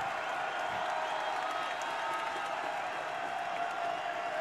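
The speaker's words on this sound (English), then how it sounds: "Listen to this crowd in the Holmes Convocation Center." A basketball arena crowd at the Holmes Convocation Center during an East Tennessee State at Appalachian State game sustains a loud, steady roar of cheering and applause throughout.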